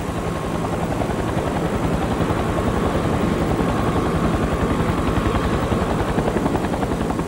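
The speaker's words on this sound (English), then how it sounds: "we had a chopper hovering above us" A helicopter hovers overhead during a rescue, its rotor chop pulsing in a fast, even rhythm that stays loud and constant throughout with no talking.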